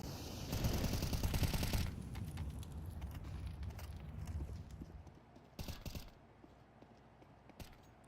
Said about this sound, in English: He's heard all these footsteps as they run away